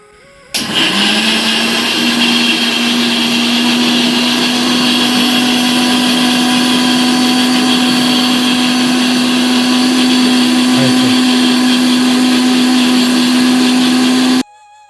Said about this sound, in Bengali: মিক্সার মেশিনে এটাকে আমি পেস্ট করে নেব